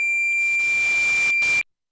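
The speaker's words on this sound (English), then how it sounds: "So that sound just now has a certain beep to it, right?" A steady high-pitched electronic tone sounds loud and continuous, with a brief dip near the end before it cuts off sharply into silence.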